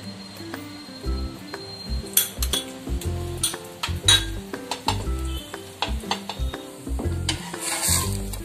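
Masala amboli cooks in oil on a pan with a soft sizzle beneath frequent clinks and scrapes of a spatula or utensil against the pan, irregular and close by.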